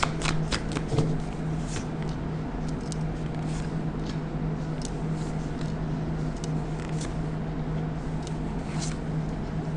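Tarot cards shuffled steadily for several seconds during an online tarot reading, a dense riffling patter with crisp card snaps, close and alone without talk over a faint low hum.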